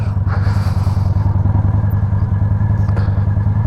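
A Harley-Davidson motorcycle engine with a replaced fuel pump idles steadily up close, a loud, continuous low rumble with a throbbing pulse and faint mechanical clatter throughout.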